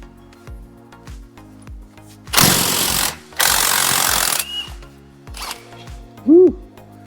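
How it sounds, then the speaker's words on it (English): An impact wrench hammers in two loud sustained bursts on the Loctite-coated wheel bearing bolts of a Nissan Armada or Infiniti QX80, amid clanking tool sounds and a mechanic talking nearby. "we're going to get in here with our impact again"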